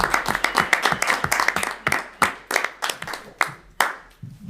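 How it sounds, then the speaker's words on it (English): A small group claps for a young woman at a town Board of Finance meeting, roughly a dozen distinct hand claps ringing out near and clear, loosening and thinning to a few scattered claps before fading to quiet. "I'd like to ask you for a round of applause for this wonderful young lady"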